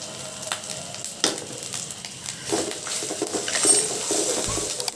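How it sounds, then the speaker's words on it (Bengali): Ginger and garlic paste fry on medium heat in a pan for a chicken roast, making a steady sizzle. Utensil scrapes and light clinks are heard close by, with no talking. "চুলার আঁচ মিডিয়াম রেখে আদা রসুনটা একটু ভেজে নেব।"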